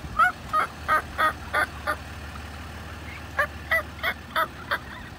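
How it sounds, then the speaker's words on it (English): Wild turkey gobbling in a burst of quick repeated calls, a rapid cluster of about seven followed by a pause and another run of five, carrying clearly across an open outdoor setting. "This turkey."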